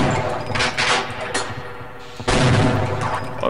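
Gunfire in the video game Half-Life: Opposing Force, with bursts of shots and booming impacts over dense game noise, loud and close, pausing briefly before resuming heavily.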